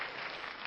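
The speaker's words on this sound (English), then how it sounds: "Crowd goes wild." A brief burst of crowd applause as a sound effect, a dense, even wash of clapping that fills the whole moment at moderate loudness with no voices over it.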